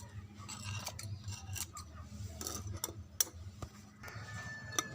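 Scissors trimming portulaca plant branches, a series of sharp close snips and clicks scattered irregularly over a quiet background hum, with no talking.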